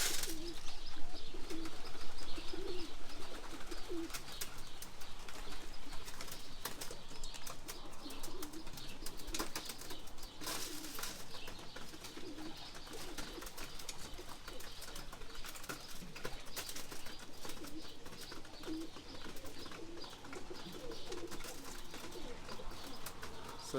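Roller pigeons coo repeatedly at close range while they are fed and trained at a tray, with occasional wing flaps among the soft, continuous calls. The background noise is steady and no one speaks.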